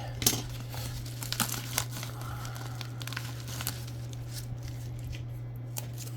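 A padded mailer holding trading cards is pulled open, giving quiet close-up crinkling and crumpling with small tearing sounds over a steady low background hum.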